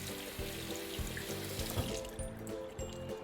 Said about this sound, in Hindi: ये ठंडा पानी ऊपर मार रहे हैं ताकि ये बिल्कुल अंदर तक ठंडा हो जाए।